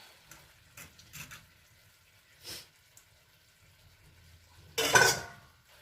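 A spoon stirs a spicy shrimp and cabbage mix in a pan, giving a few light scrapes and clinks followed by one louder, sharper clatter near the end, with quiet gaps between.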